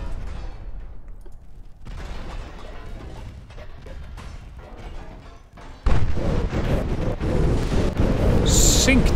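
Torpedo explosions from warships in the naval battle game Ultimate Admiral: Dreadnoughts: rumbling booms that build into a louder, dense barrage of blasts in the second half, with a sharp burst near the end.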